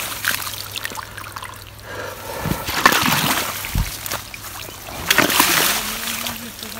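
Stream water running into a harvested paddy field being flooded for ploughing: near splashing and trickling that swells and fades in uneven bursts, with a low hum and faint voices in the background.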